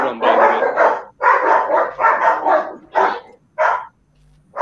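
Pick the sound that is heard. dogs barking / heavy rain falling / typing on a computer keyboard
dogs barking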